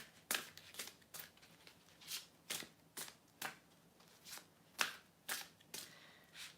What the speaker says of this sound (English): I'm going to pull some cards for you